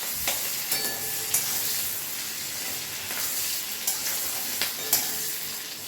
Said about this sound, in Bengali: দিয়ে ভালো করে ভেজে নেবো